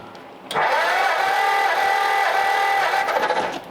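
Brand-new flathead V8 in a 1939 Ford Coupe running steadily: a loud, even mechanical drone that kicks in abruptly, holds for about three seconds and then drops away, with no talk.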